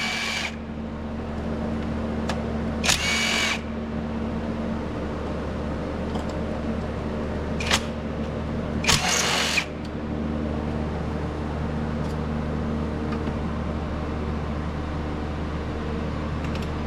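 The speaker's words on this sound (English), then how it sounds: "Go ahead and remove these 3 8mm bolts." A socket wrench with an extension removing 8mm bolts on a Mazda B4000 thermostat housing, short bursts of ratcheting clicks separated by pauses over a steady background hum of fan noise.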